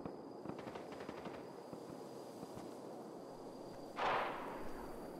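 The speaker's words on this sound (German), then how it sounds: "Überall Schüsse." Rapid gunfire crackles in a battle video game, a few quick bursts of shots early on over constant noisy ambience, then a louder hissing blast toward the end.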